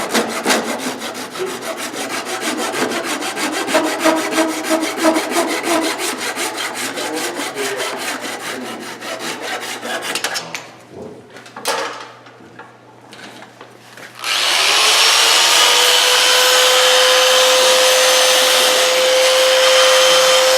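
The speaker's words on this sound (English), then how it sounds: "Yeah, turn the lathe on real quick here." A wood lathe turns a wooden snowman. Rhythmic scraping of a tool cutting the spinning wood gives way after a short, quieter pause to a loud, steady motor whine with a sustained tone.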